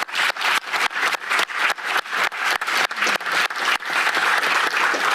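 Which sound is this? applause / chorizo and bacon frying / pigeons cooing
applause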